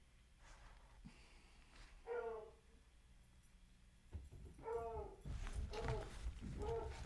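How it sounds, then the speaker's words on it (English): Dogs indoors in a home sewing class, giving short yips, whimpers and a few barks in scattered bursts, quiet at first and then more insistent and overlapping toward the end, with no speech. "the dogs will hopefully start behaving"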